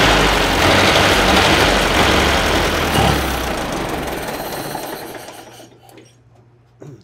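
A 1930 Ford Model A sedan engine runs with a loud, rough, rattling idle that steadily fades and dies out toward the end, leaving a faint low hum.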